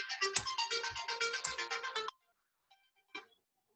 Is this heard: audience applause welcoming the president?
no